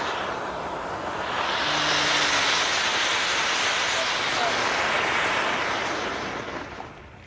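A small remote-controlled boat motor whines steadily on a river, rising as it nears and then fading away, with a broad hissing wash like water spray throughout.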